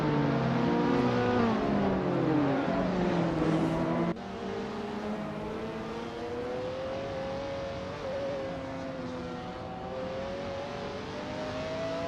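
Virtual race cars in a video game jostle for position, with several engines revving and whining at once. The pitches shift and overlap until an abrupt cut, after which a steadier, slightly quieter engine drone carries on.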